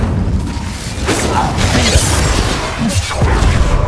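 Magic spells blast in the video game Hogwarts Legacy, with loud booming hits, whooshes and crashes piling over one another across a few seconds of combat.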